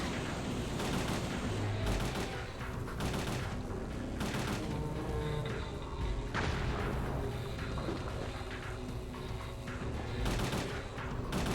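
Sustained gunfire in Parasite Eve II, with repeated loud bursts of shots and booming impacts recurring every second or two throughout.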